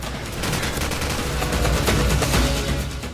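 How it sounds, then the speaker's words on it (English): An M249 SAW light machine gun firing in Call of Duty 4, with a loud, sustained automatic burst of rapid shots that continues almost the whole time. "The SAW is the US Army's squad assault weapon. It's basically a light machine gun."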